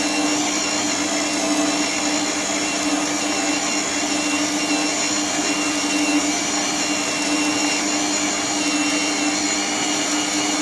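A Silvercrest food processor with its kneading hook works wholemeal dough, a loud, steady motor whine and hum that runs without a break.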